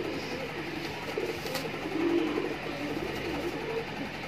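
Kalsare Makoo pigeons coo softly in a loft, low burbling calls rising and falling under a steady background hum, with no one speaking.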